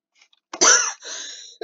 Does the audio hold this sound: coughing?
yes